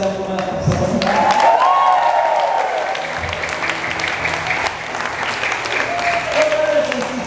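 A crowd at an El Shaddai religious gathering applauds in a steady, moderately loud wash of clapping that continues throughout, with a voice and tonal sounds over it.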